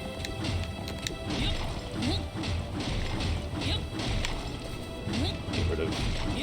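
Blocks are smashed in Dragon Quest Builders 2 while the character drops down, giving a rapid series of crunching, thwacking hits with whooshes over a busy game background.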